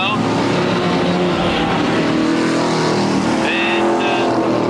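A 1979 Super Sedan race car roars steadily down the straightaway at Newcastle Motordrome during a 150-lap Grand Prix main event. The engine drone is loud and continuous, with a race commentator talking over it.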